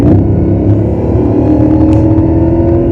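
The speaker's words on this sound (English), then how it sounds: "And that's supercharged. You can hear the whine." A supercharged Mercedes SLR engine revs loudly and steadily at close range, with a deep rumble and a thin, high supercharger whine running over it throughout.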